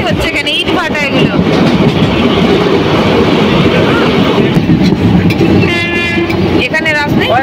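The Malda Town Intercity Express runs fast through a small station without stopping, with a loud close rumble and clatter of the carriages. Horn toots sound near the start and end, and voices are heard.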